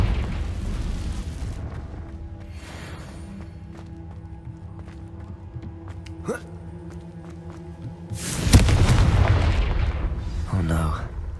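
A Confringo blasting spell explodes in Hogwarts Legacy, a loud booming burst late in the sequence following sustained low rumbling combat noise, with a voice speaking over the game sounds.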